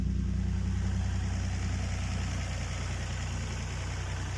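A Nissan Stagea NM35 with a VQ25DET engine idles through a catless straight-back exhaust, giving a steady low rumble with a fine rhythmic pulse that stays even throughout.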